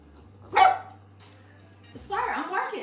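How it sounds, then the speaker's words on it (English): Dog barks indoors at home: one sharp bark, then a pause, then a louder burst that overlaps with a voice, the dog sounding close. "You barking at me?"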